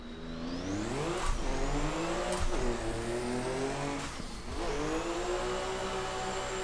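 A Mazda RX-7 drift car's engine revs hard and close, its pitch climbing repeatedly with brief dips between rising pulls, loud and continuous without talk.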